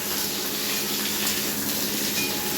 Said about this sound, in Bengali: পটলগুলো ভালো করে ভাজতে হবে।